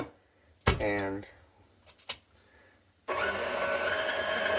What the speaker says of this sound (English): let it blend. Start off slow so that they incorporate the liquids and the dry ingredients